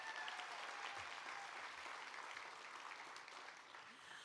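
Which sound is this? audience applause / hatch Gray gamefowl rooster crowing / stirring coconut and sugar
audience applause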